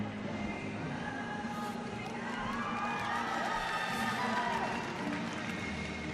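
Arena crowd at a women's world championship boxing bout cheering and shouting after the fight, a broad sustained roar at moderate distance, with voices speaking over it.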